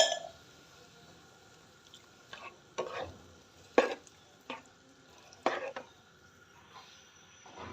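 Chicken cream sandwich filling with milk cooking in a pan, a few separate scraping stirs spaced a second or so apart over a faint low sizzle, fairly quiet.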